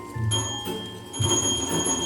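A small bell rung in a kitchen while pancakes are being made, two bright ringing strikes with long sustained tones that overlap and fade, clear and close with no talking.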